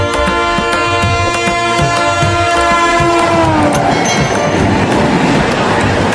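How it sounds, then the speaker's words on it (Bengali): Subarna Express passenger train running on the Dhaka to Chittagong line, a loud, steady rumble of wheels and carriages with a sustained horn tone in the first part, heard from close by without talk. "গতির দানব আজকের এই সুবর্ণ এক্সপ্রেস ট্রেনটি বড় বড় শহরের উপর দিয়ে যাবে"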